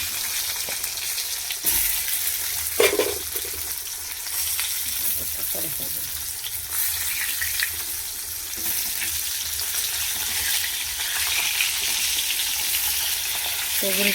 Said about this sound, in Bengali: বেগুনগুলো কেটে রেখেছি দুখালি করে, আমি ভেজে নেব তেলে একটু।